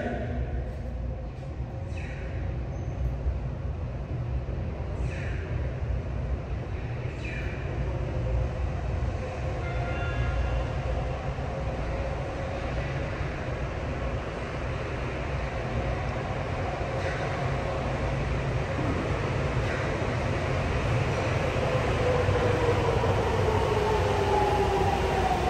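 A train pulls into the platform at Asabu Station with a loud, steady rumble of wheels on rails. A metallic squeal grows toward the end as it slows, and the rumble continues alone without talk.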